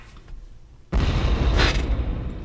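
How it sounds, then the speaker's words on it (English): A deep booming explosion sound effect from a video game bursts in abruptly after a near-silent moment and rumbles on with a loud, sustained roar. "Let's get him the explosion one more time."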